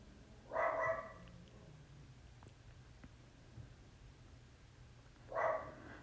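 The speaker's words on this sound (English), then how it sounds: "Sorry if you hear my dog barking in the background." A miniature poodle barks twice in the background, short sharp yaps several seconds apart, over a quiet room.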